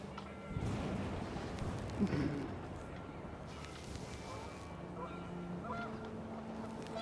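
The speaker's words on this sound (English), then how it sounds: "The wind picked up, and panicked geese appeared and quickly went." Panicked geese honk in a windy scene from the video game What Remains of Edith Finch. The calls are faint, scattered and brief over a low, rumbling background.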